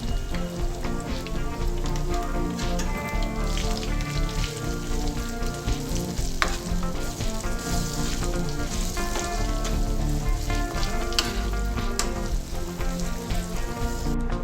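Lemons frying in hot oil for a lemon pickle give a steady, close sizzle with a crackling, rain-like patter that holds constant throughout, with no voices.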